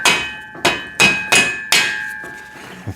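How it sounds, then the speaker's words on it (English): A rubber mallet knocks a bushing onto a home-gym pec deck and rear delt machine, with five or six sharp, close blows in an uneven rhythm, each ringing briefly against the metal frame. "Rubber mallet I was telling you about before"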